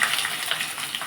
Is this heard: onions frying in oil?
yes